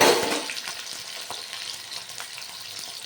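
Potatoes fry in a little mustard oil in a pan for a raw banana curry and are stirred, making a dense, close sizzle that starts loud and settles into a steady crackle with spatula scrapes.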